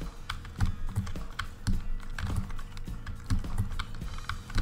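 Rapid clicking keystrokes on a sensitive computer keyboard while a Roblox obby is played, close and crisp, coming in uneven bursts of taps and presses with no one speaking.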